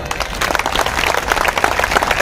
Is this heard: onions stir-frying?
no